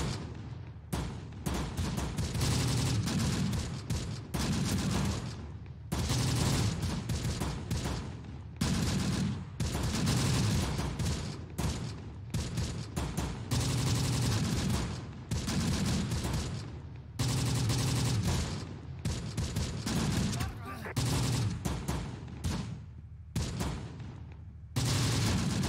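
Dense rifle fire in the World War II game Close Combat: The Bloody First, with rapid overlapping shots and volleys crackling almost without pause, loud and close throughout.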